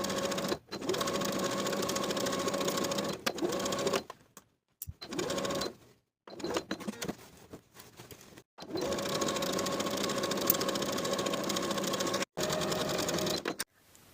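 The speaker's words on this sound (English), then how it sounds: "Then we'll sew the side seam from the top to the dot with a 3/8 inch seam allowance" A sewing machine stitches the side seams of a jumpsuit in loud, steady whirring runs with several brief pauses between passes, close and alone.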